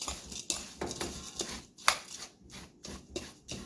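Spoon stirring melted butter into crushed Breton palet biscuits for a tart base in a bowl, giving soft, repeated scraping and clinking strokes at a fairly even rhythm, close and quiet, with no talking.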